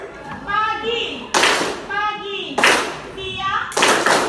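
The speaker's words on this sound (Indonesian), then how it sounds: "Tepuk tangan semuanya." A group of people, likely children in a classroom, clap hands in three sharp, loud bursts, with a woman chanting between each burst.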